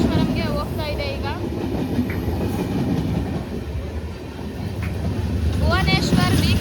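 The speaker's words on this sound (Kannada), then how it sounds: "ಬಂದೇ ಬಿಡ್ತು ನೋಡಿ ನಮ್ಮ ಭುವನೇಶ್ವರ್ ವೀಕ್ಲಿ ಎಕ್ಸ್ಪ್ರೆಸ್." Bhubaneswar Weekly Superfast Express from Rameswaram rolling past, a heavy continuous rumble and rattle of coaches on rails, loud and near, with people talking and whistling over it.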